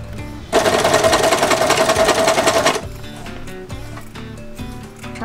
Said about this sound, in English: put it in the sewing machine